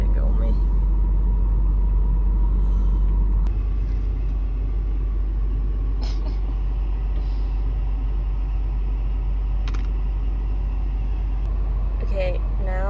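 A car engine idles in traffic at a stoplight, a low steady rumble close by, while people talk over it and faint passing vehicle sounds come and go.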